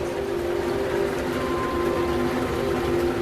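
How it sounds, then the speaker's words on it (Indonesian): A train rumbles through a station on a rainy night, with a steady heavy mechanical drone and a sustained tonal hum, fairly loud and with no voices. "Suara kereta datang dan pergi"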